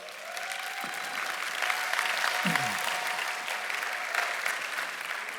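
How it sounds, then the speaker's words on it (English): Applause from a church audience welcoming volunteers to the front, a steady crowd of clapping hands sustained for several seconds at moderate distance, with faint voices mixed in. "Let's give them a big round of applause"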